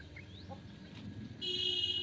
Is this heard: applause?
no